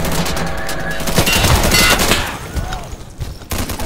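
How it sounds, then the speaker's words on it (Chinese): Sustained machine gun fire rattles from a second-floor position in the shooter game Insurgency, with rapid dense bursts that thin out and turn sporadic toward the end. "二楼机枪压制了"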